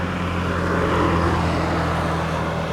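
A DJI Avata drone hovers about 45 meters up near a hilltop in strong wind. Its propellers give a steady, continuous whine under a thick rush of wind noise, with no voices.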